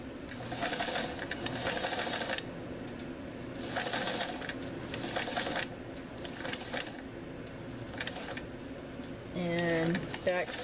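A sewing machine that is acting up and needs cleaning back stitches over a seam on a fabric tissue case, running in several short mechanical bursts. A faint voice is heard near the end.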